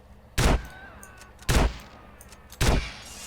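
Three loud gunshots in the video game GTA San Andreas ring out about a second apart, each a sharp blast with a short decaying tail, separated by quiet background.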